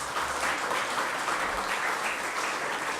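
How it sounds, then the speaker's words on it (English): An audience at an environmental technology awards ceremony claps in a sustained, full round of applause, loud and steady from start to finish with no one speaking. "Let's give them a round of applause."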